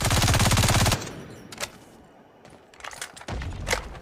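Rapid automatic gunfire from a Call of Duty match blasts loudly for about a second, followed by scattered single shots and another sustained burst of fire toward the end.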